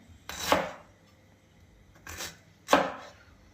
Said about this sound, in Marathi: एवढा अद्रकचा तुकडा घेतला आहे त्याला कट करून घेऊया